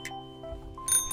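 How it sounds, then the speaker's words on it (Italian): A bicycle bell rings in a children's cartoon show with bright metallic dings, one brief tone at the start and a louder double ring near the end, over a quiet background. "Mi piacciono i campanelli. Fanno drin drin."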